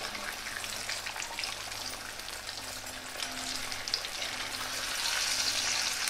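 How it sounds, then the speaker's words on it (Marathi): Alu vadi pieces fry in well-heated oil, giving a soft, steady crackling sizzle that builds slightly louder toward the end, with no talking. "तेलाला आवाज आणि सुगंध."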